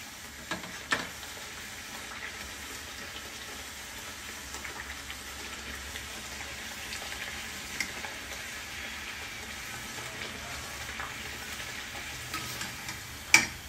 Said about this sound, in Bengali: কড়াইশুঁটির পুরিগুলো আমি এক এক করে ভেজে ভেজে তুলে নেব